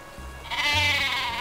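The exploding sheep weapon in Worms Reloaded gives a single wavering, cartoonish bleat, loud and close over a low game background hum.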